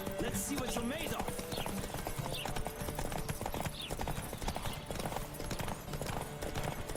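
Galloping horse in The Witcher 3 video game, a fast, steady clip-clop of hooves running continuously and loudly throughout, with a voice talking over it.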